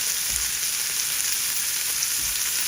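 Fish fries in hot oil in a pan, a steady bright sizzle with crackling spatter that holds at an even level from start to finish, close by with no talking.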